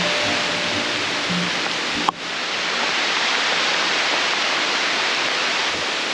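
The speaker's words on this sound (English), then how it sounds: "we're not going to let a little downpour stop us from seeing this little waterfall" Heavy rain pours down near a small waterfall in a southern rainforest as a loud, unbroken hiss, with one sharp click partway through.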